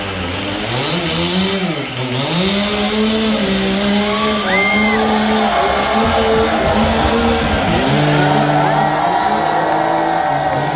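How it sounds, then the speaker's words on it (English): A Stihl 362 chainsaw warms up at an outdoor lumberjack show, running loud and close with its engine pitch swooping up and down through repeated revs and dips over a continuous high, rough whine. "we're going to warm up the 362 steel chainsaw"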